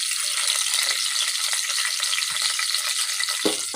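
Onions hit hot ghee or cooking oil and fry with a loud, continuous bright sizzle up close. A brief stirring clatter sounds near the end.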